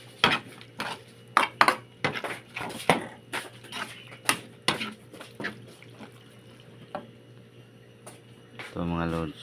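Pots and utensils clatter in a home kitchen while satemi is cooked: a run of sharp metallic clinks and taps, close and fairly quiet, ending with a short burst of running water, while someone talks over it.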